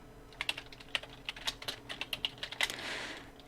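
Text is typed on a computer keyboard during a shortcut-driven Illustrator lesson, with quick, irregular key clicks close by and no talking, ending in a brief soft rustle.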